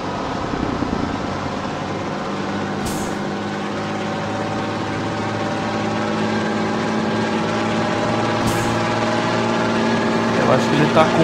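A truck engine in Grand Truck Simulator 2 drones steadily at a low, continuous pitch, with brief sharp hisses of gear changes, while someone talks over it throughout.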